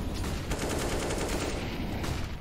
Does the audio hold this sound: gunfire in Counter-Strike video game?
yes